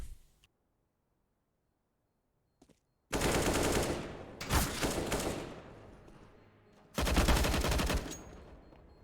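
Automatic rifle fire in Counter-Strike: Global Offensive on the Dust2 map during a tournament match comes as loud, close bursts of rapid shots after a near-silent stretch, with a second burst a few seconds later.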